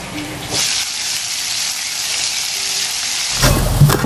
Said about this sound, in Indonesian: Sebelah goreng tempe, aduh, cipretan, sebelahnya goreng ikan asin.